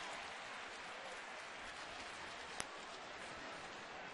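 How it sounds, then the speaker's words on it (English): At a baseball game between Washington and Cleveland, the stadium crowd gives a steady, distant wash of applause for fans who caught a foul ball, with one brief sharp knock partway through. "there's some round of applause for the fans that got that foul ball"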